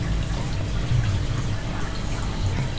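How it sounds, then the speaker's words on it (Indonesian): Water runs steadily from a tap feeding a discus fish tank auto-drip system, a continuous low rushing flow that stays even and close throughout, with no talking. "supaya airnya deras ngalir ke bawah gitu"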